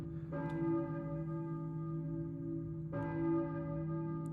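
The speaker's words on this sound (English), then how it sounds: "church bell, maybe? Who's ringing the bell?" Church bell tolling in the Silent Hill PSX video game, two slow resonant strikes with a long ringing hum between them, alone without talk.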